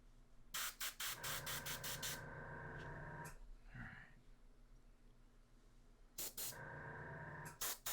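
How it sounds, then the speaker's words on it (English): A Sotar airbrush sprays paint at a miniature in a series of short, hissing bursts, then a longer steady spray. After a quiet pause, more quick bursts follow, all close and fairly soft. "Tried to spray it directly up with the Sotar and had paint running out the trigger."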